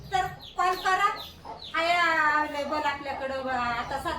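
Desi gavran chicks and hens cluck and cheep in short, repeated bursts that are fairly close and clear, with a steadier run of calls in the second half.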